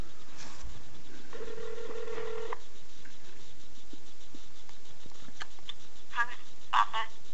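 A phone call rings out over a speakerphone, with a short electronic ring tone followed by faint clicks and line noise. Brief blips come near the end, close but fairly quiet.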